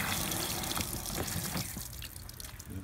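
Water rushes from a garden hose on a Suncast Aquawinder hose reel, a steady soft splashing hiss with small drips, close and alone with no talking.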